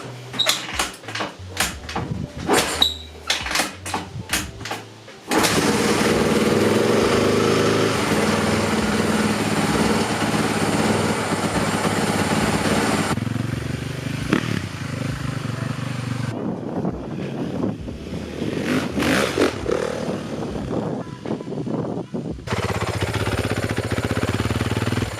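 A 2013 Honda CRF450R dirt bike engine starts after a few clanks and knocks, then runs loud and steady at close range with a raspy, sustained drone, its pitch shifting slightly as the revs change, with no talking over it.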